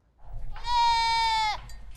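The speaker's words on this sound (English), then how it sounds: "But when these goats get out of their fenced-in area, they're causing havoc for Christina Benavides." A single goat gives one loud, near, wavering bleat lasting about a second. Faint low rumble sits underneath.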